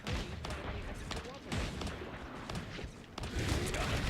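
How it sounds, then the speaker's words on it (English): Sniper gunfire and other shooting in a video game form dense, repeated sharp cracks and booms over a busy mix of game noise, with some talk mixed in. "Did that just get capped by Widowmaker?"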